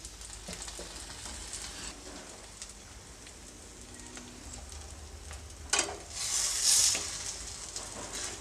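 Aloo paratha cooking on a pan with a spoonful of oil on top, a soft, even sizzle close by that swells into a louder burst of hissing near the end.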